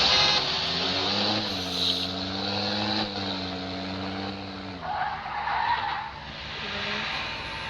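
Tires skid and squeal as a car brakes and turns in a driving video game, a long wavering screech over steady engine drone with a rougher burst near the end, no voices.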